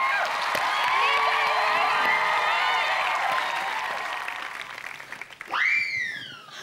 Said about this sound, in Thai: ขอเสียงปรบมือให้กับคนได้รางวัลด้วยครับ